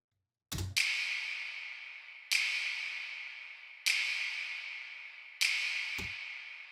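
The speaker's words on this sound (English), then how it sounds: "I forgot to show you the snaps from the first breakdown" A single snap sample from the first breakdown of an electronic music track, EQ'd with reverb and stereo widening: four crisp finger snaps at an even, slow pulse, each trailing a long bright reverb tail, alone without speech.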